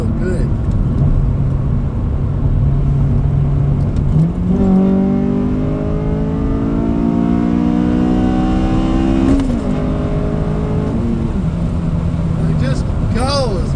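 A 2007 Honda Civic Si engine pulls hard under acceleration while driving, its rising note climbing steadily through the revs, with a brief dip at a gear change before climbing again. Loud and close, with a voice talking over the engine.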